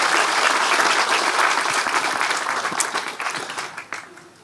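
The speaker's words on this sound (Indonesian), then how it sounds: "Nyuwun tepuk tangannya yang paling keras buat Dr." Audience applause for a speaker at a talk, a loud dense wash of many hands clapping that gradually tapers off, with a few last claps and some voices near the end.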